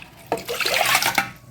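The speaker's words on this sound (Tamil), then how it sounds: "இதே தண்ணியே நான் ஊற்றிடுறேன்." Soaking water carrying green gram is poured into a pressure cooker, making a short, close, loud splashing gush with no talk.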